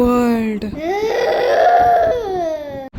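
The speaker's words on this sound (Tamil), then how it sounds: "ஒரு குழந்தை அழுகிற சத்தம் எப்பவும் கேட்டுட்டு இருக்கும்" A baby cries loudly and continuously in a horror story, a sustained wailing cry that rises and falls with a brief catch for breath partway through.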